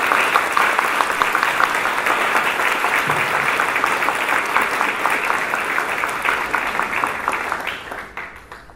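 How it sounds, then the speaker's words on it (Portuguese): A warm round of audience applause at a Bahá'í community gathering in São Caetano do Sul, full and even for most of its length before tapering off near the close. "A ela pedimos uma efusiva salva de palmas."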